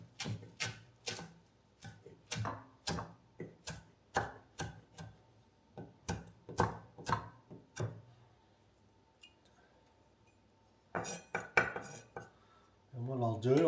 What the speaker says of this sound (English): I just took some basil out from the garden, so we'll just chop that up.